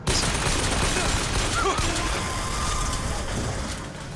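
A turret fires in Bioshock Infinite, a loud continuous rattle of rapid shots over the whole stretch with no pauses, fading slightly toward the end.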